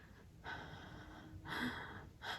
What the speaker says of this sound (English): I'm slowing my breathing down